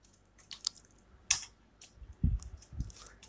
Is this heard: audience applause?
no